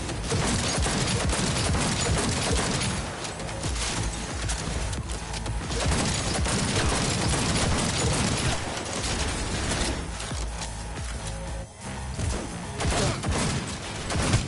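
A video game turret fires a continuous, dense mechanical rattle that runs loud and unbroken for many seconds, filling the whole space with rapid clattering shots.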